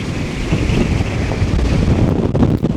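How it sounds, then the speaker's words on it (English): Strong gusting wind buffets a microphone outdoors beside a camera shoot, a loud continuous roar with no voices. "I'm just sheltering from the ridiculous wind"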